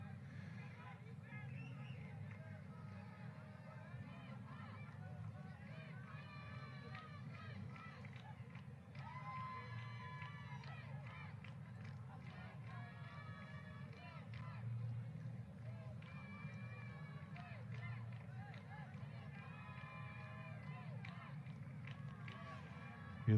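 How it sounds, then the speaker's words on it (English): Crowd at a T20 cricket match between Bangladesh A and Nepal creates a constant, distant roar of shouting and babble throughout, with a commentator talking over it. "Hear the noise of the crowd in the background, shouting their support enthusiastically."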